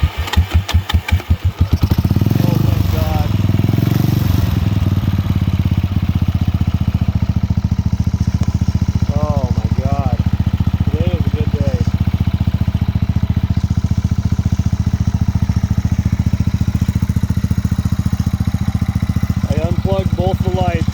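A fire-damaged Buell motorcycle cranks on a small KTM battery, catches and settles into a steady, loud idle that runs on, with brief voices faintly over it at times.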